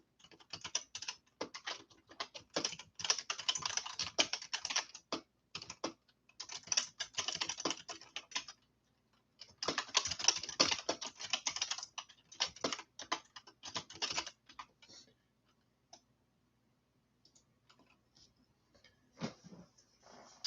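Bursts of fast computer keyboard typing come close and clear, clattering in several runs with short pauses between them, quiet in the room and with no one speaking.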